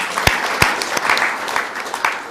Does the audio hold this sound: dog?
no